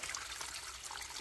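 Spring water trickling steadily from its source near a stone basin, a soft continuous broadband splash and dribble, close and even throughout with no talk.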